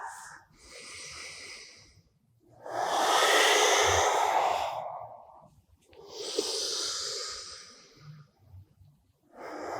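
Slow, deep breathing during a hatha yoga flow: two long, loud breathy inhale-exhale cycles close to the mic, with quieter breath between and no talking.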